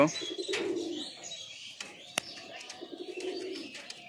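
Mukki pigeons coo in low, rolling bursts near a home loft, with faint chirps and a few sharp clicks scattered through the stretch; no one speaks.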